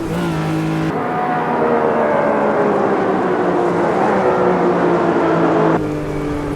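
A Porsche 911 RSR 3.0 race car howls around the 1970s Red Bull Ring in the Automobilista 2 sim, its engine note holding high and climbing steadily through a gear, loud and continuous with a shift at each end.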